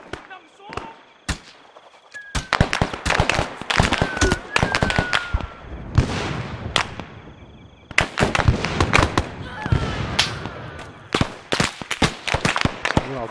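Gunfire in the video game ARMA III, sharp irregular cracks and bursts in rapid clusters with short gaps, loud and close, with a faint voice underneath.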